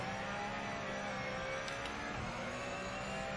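Simulated P Cup race car lapping Zolder circuit, a steady high-pitched engine whine holding constant at racing speed, moderately loud and continuous with no talk.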